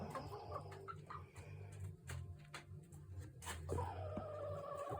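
Backyard chickens, including a Black Australorp and a Plymouth Rock, cluck and murmur close by in a low, uneven chatter, with occasional sharper calls and a louder burst near the end.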